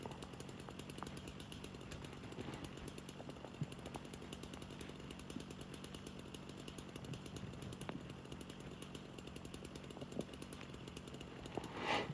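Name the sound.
Stihl 881 chainsaw cutting wood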